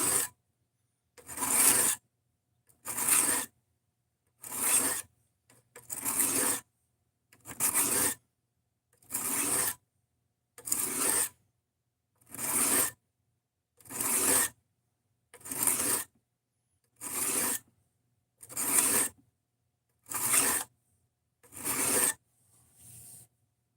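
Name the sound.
knife being sharpened on a cheap sharpening block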